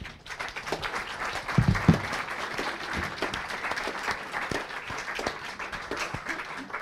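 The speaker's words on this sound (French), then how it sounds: "on peut les applaudir" Audience applause at a French-language tribute evening for poet Antonio Machado, a steady wash of clapping from a seated hall that swells briefly early on and then carries on evenly at moderate level.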